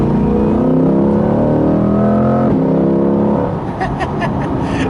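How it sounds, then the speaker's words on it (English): A loud, deep 495-horsepower V8 engine of a 2020 Corvette Stingray Z51 drones steadily from inside the car, its pitch rising, dropping once, then climbing again, with some faint clicks near the end. "Sounds good though, that V8."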